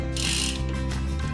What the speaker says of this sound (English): So insert the chain behind the seat stopper and into the next pulley below.